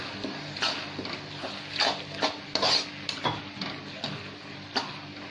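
A spoon stirs chicken gravy in a pan over a medium-high flame, with repeated metallic scrapes and clinks against the pan at an uneven rhythm over a faint steady background, without talk.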